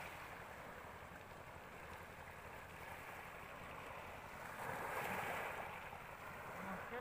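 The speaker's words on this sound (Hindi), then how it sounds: "अरे समुंदर है ब्रो," Sea waves washing onto the Mumbai shore near a park, a steady broadband surf wash that swells louder for a moment midway, with wind noise on the microphone and no talk.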